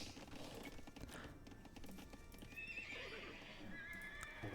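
Faint game audio from Age of Empires scout cavalry, with horses neighing and hooves clip-clopping, and light keyboard-like clicks underneath.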